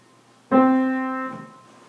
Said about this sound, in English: Here's what it might sound like on a piano.